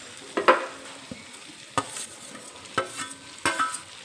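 Fried teasel gourd (kakrol) being stirred into spice masala in a pan, soft frying under several distinct scrapes and clacks of a spatula at irregular intervals.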